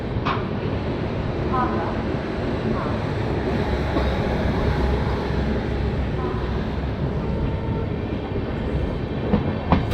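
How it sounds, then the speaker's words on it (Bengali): The Tebhaga Express with LHB coaches pulls out of Malda Town station with a steady rumble and rattle of rolling coaches, a few squeals and clicks, and voices in the background. "ফাইনালি মালদা টাউন স্টেশন ছেড়ে ট্রেন বেরিয়ে যাচ্ছে"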